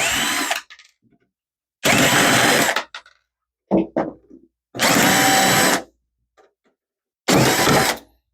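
A powered screwdriver backs out the fan screws on a 2010 Dell Vostro 460 desktop case, four loud whirring bursts of about a second each separated by silences and small clicks.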